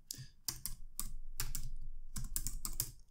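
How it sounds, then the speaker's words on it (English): Steady keystrokes on a computer keyboard, typing a Linux terminal command in quick bursts of close, crisp clicks with only brief pauses between groups. "So let's type that in"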